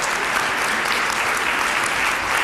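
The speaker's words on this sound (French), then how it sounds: "On l'applaudit bien fort." Steady, dense applause from a room full of people, continuous and fairly loud throughout.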